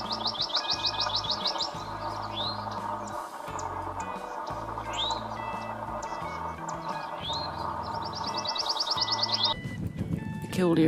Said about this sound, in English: Killdeers are still over here.